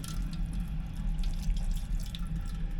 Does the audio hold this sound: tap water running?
yes